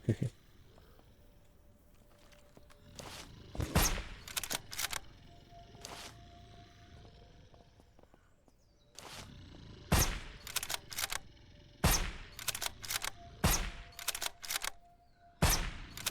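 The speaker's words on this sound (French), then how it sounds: "je tire dans la barrière" Gunfire in the video game SurrounDead comes as sharp single shots and quick bursts scattered through the passage. The shots sit over a low ambient bed and faint tones, and no one speaks.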